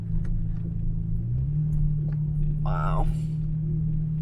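A car climbs a snowy national forest road in the White Mountains, its engine a steady low rumble from inside the cabin with a slight rise in pitch partway through. A person briefly exclaims over the engine.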